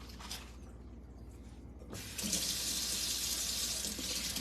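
Water pours steadily onto a potted plant outdoors, a soft trickle that swells into a louder, continuous splashing rush after a couple of seconds, close and alone without talk.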